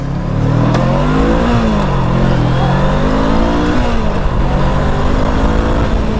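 An FKM Glider 500 motorcycle accelerates hard, its engine note climbing through revs with a shift dip partway, loud and close with rising and falling pitch.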